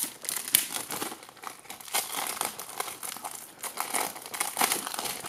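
Plastic wrapper crinkles and tears in irregular bursts as a new Blu-ray case is unwrapped, close and fairly loud, with no talking.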